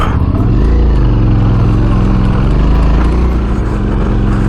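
A Suzuki V-Strom 650 adventure motorcycle rides along a dirt track. Its engine gives a loud, steady, close drone mixed with rushing wind, holding an even pitch the whole time.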